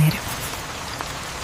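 Steady evening rain pattering on a surface, a dense, even wash of drops with no pauses, fairly loud and close throughout.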